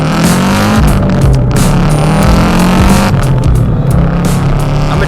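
A Subaru STi engine revs loud and close, a rough, throaty roar that rises and dips in repeated surges with no voices over it.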